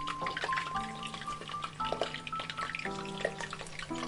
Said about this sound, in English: Fry until golden brown.